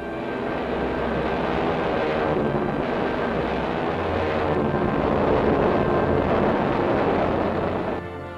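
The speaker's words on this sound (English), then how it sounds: "The first Army bomber ever to be launched from a carrier is safely in the air." A B-25 bomber drones loudly and steadily overhead in flight, a thick propeller engine roar that holds throughout before easing at the very end.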